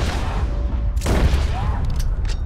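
A rolling block rifle fires at a legendary white bison in Red Dead Redemption: a single loud, sharp report about a second in, ringing out over steady outdoor game ambience.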